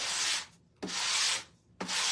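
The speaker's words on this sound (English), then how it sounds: "sanding block and go over the top of this just very lightly" Three slow, even strokes of a sanding block rubbing lightly over a surface, a soft hiss with brief pauses between passes, close up.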